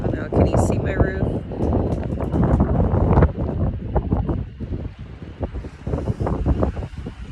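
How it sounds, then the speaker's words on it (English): Strong wind gusts roar across a house roof and buffet the microphone in a steady, loud broadband rush that rises and falls over the whole stretch, with no quiet moments. "We're having crazy winds."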